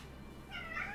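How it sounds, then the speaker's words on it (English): An orange pet cat gives a single drawn-out meow in the second half, fairly quiet and close over a low indoor hum. "that's my cat Sepple"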